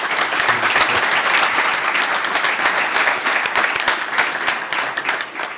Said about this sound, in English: I would ask you to join me in a quick round of applause for our awesome panelists